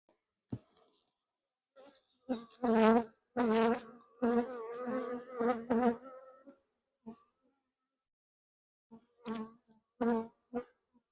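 Honeybees from a swarm caught in May buzzing close by during a hive inspection, loud droning passes rising and fading in several bursts with quiet gaps between.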